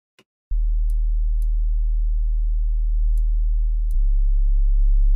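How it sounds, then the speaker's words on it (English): A pure sub-bass synth tone with everything above about 150 Hz cut by EQ holds a deep, steady low hum. A few faint clicks tick over it and a second note comes in near the end. "you hear that sub is hitting really good right now"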